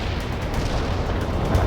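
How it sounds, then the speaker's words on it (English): An artillery strike in the real-time strategy game World in Conflict: a continuous, loud, low rumbling barrage of booming impacts, with no voices. "Artillery striking the mark."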